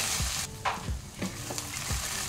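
A spoon stirs watermelon rind curry as it fries in a pan, with a steady sizzle running underneath. Several scrapes come at an even rhythm, heard close and with no talking.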